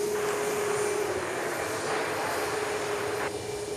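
An airplane roars down runway 13 left on takeoff at Dallas Love Field, a steady, distant engine rumble holding level throughout, with no talking.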